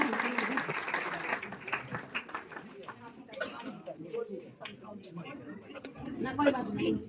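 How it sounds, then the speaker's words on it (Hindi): Loud applause and clapping at a retirement honour ceremony as guests of honour are draped with shawls, a dense crowd sound with chatter and voices running through it. "जोरदार तालियां।"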